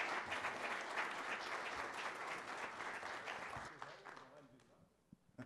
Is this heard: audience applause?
yes